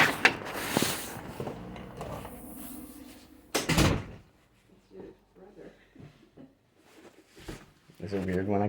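A house front door opens and closes with sharp wooden knocks and a rattling thud, heard near and moderately loud, while a person talks throughout.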